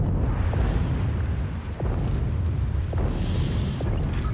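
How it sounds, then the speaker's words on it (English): Repeated airstrike explosions in the naval combat game World of Warships form a dense, roaring rumble with several muffled booms spread through it, steady and loud, with no talk. "More airstrikes."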